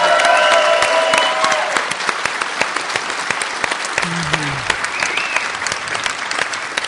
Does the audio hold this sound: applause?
yes